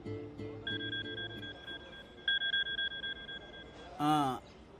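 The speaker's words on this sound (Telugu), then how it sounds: "ఇదిగో మెసేజ్ వచ్చిన నంబర్ నుంచి కాల్ వస్తోంది." A phone rings in repeated electronic trills, fairly close, pausing between bursts, with a voice speaking briefly at the start and end.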